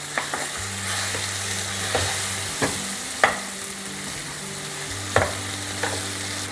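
A pan of cooked raw banana for a Telugu mustard curry is mashed over a low flame, with scattered soft knocks and scrapes of the utensil against the pan over a steady low hum, and no voices.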